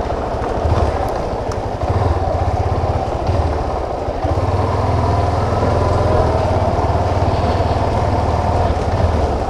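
A motorcycle engine idles steadily and loudly close by on Rua das Pedras in Armação de Búzios, Brazil, a continuous low rumble with no speech.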